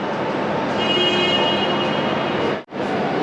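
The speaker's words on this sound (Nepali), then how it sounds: "रेलगाडी आउँदैछ छुकछुक गर्दै" A passenger train approaches in Siliguri, its steady roar building into a broad, loud rumble with a faint high whine on top, then cutting off abruptly near the end.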